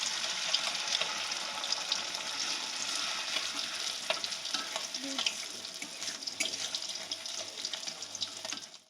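Ginger and a little tomato fry in a pan with a steady broad sizzle and scattered small pops and scrapes, with no talking.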